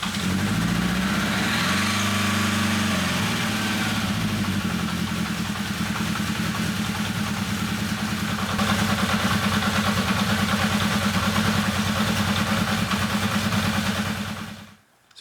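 A motorcycle engine, just back together after carburetor work, catches and settles into a steady, buzzy idle that carries on close by until it cuts off abruptly at the end.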